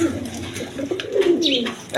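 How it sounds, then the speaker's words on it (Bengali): A red Jacobin pigeon coos in low, rolling calls close by, with brief higher chirps near the end and no speech. "রেড কালারের মধ্যে জ্যাকোবিন কবুতর"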